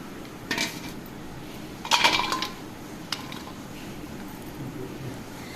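Sliced onions are scraped from one bowl into another, with a few clattering knocks and clinks of utensil against dish over faint background hiss.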